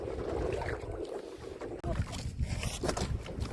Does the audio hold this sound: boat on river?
yes